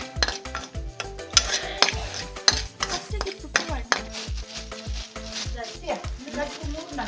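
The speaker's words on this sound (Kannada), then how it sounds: "ಅದನ್ನು ಏಲಕ್ಕಿ ಎಲ್ಲ ಹಾಕೊಂಡು ಒಂದ್ ಸ್ವಲ್ಪ ಹೊತ್ತು ಚೆನ್ನಾಗಿ ಫ್ರೈ ಮಾಡ್ಕೋಬೇಕು" Whole spices with cardamom frying for a large chicken biryani, a dense busy sizzle with rapid, rhythmic ladle scrapes and clatter against a big pot, loud and close throughout, no speech.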